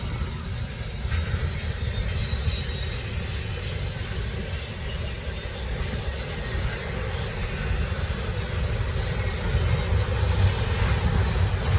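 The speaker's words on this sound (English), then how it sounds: "Got a lot of racks on this train, so here we go." A Norfolk Southern freight train hauling many autoracks passes close by, its steady rumbling roar of rolling wheels lasting the whole stretch, with a faint high squeal over the top and no talking.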